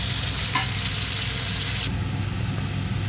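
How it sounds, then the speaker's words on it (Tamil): Curry leaves and chopped green chillies fry and get stirred around a pan, a steady close sizzle with a brief scrape of stirring early on and no talking. "கருவேப்பமில்லை, வெட்டி வச்சுக்கிற பச்சை மிளகாய் எல்லாத்தையும் போட்டு நல்லா பிரட்டி விடுவோம்"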